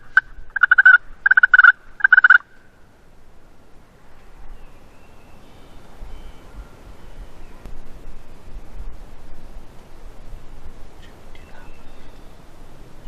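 A wild turkey gobbler gobbles in one quick rattling burst at the start, then only faint background hiss remains.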